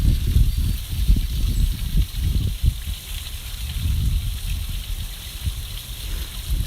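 A waterfall seen from a bench at a secret spot, heard as a continuous rushing hiss with low rumbling gusts, steady and moderately close, with no talk.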